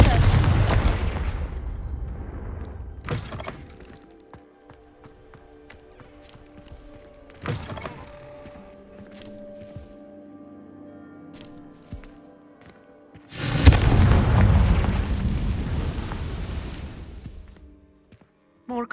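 A Confringo fire spell is cast in Hogwarts Legacy and lands as a sudden loud burst, a dense roaring blast that rumbles for several seconds before tapering off. Quieter game ambience and a few thuds come earlier in the scene.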